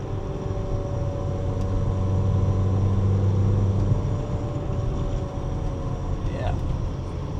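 A Mazda Miata NC rolls down the road with a steady, droning engine and road noise that stays close and constant, as if heard from inside the cabin, with no talking.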